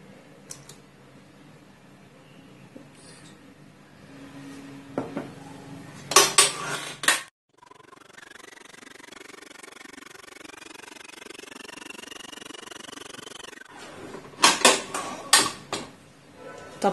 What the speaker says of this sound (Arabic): هحط بيضه واضرب واحط بيضه واضرب